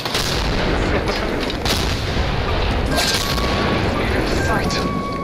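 Loud, unbroken roar of explosions and gunfire during a grenade blast in a video game, with heavy low rumble filling the whole stretch and faint tonal game sounds on top.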